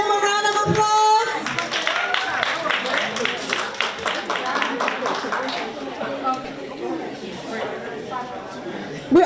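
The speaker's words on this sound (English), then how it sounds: "Can we give them a round of applause?" A town hall audience applauds young readers at a literacy event, with dense clapping sustained throughout amid chatter and voices, fairly loud and close.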